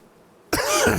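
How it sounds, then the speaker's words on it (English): A single sudden cough bursts out after near silence, close and loud, from a man playing Farming Simulator 25 while loading trees onto a truck. "I'm going to be coughing a bit here"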